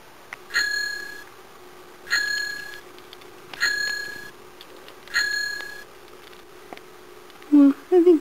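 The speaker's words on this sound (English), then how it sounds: "Why do I hear jingling?" Bright, small jingling bells ring in four evenly spaced bursts against a quiet room hum, with a brief voice near the end.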